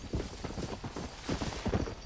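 Horse hooves clip-clopping in the Red Dead Redemption video game, a muffled, uneven run of hoofbeats at moderate distance.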